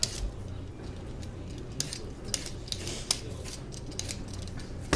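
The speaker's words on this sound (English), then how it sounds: "I'm just going to continue to peel and chop up these potatoes and get them in the pot." Sharp, irregular clicks and scrapes of a blade peeling and chopping sweet potatoes, over a low steady background. Close and fairly quiet, with no talking.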